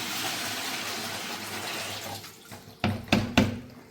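Water is poured into a bucket for making hand wash, a steady rushing splash that tapers off, followed by a few short sharp knocks and splashes near the end.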